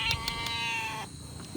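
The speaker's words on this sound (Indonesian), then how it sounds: "Kucing siapa? Kamu kucing siapa ini?" A cat meows at a mountain camping ground in the forest, one long drawn-out close meow followed by a short sharp call at the end.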